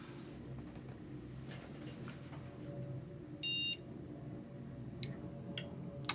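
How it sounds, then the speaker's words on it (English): A short, loud electronic beep sounds once from an ASRock X870E Taichi motherboard with a Ryzen 7 9700X as a failed boot shuts down, over a steady low hum of the running PC. "when it beeps and then turns off, that means it failed"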